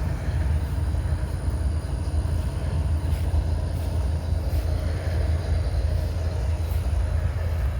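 Freight cars roll past in Abbeville in a continuous, loud rumble, the wheels adding faint rhythmic clatter over a deep, even roar, with no voices.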